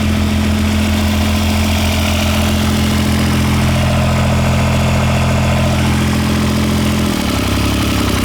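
A John Deere 430 lawn tractor's diesel engine, glow plugs working, runs steadily and loud up close with a dense low drone, its pitch shifting slightly near the end as it settles.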